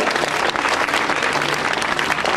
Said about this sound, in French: Applaudissements pour Gwenel Simon, s'il vous plaît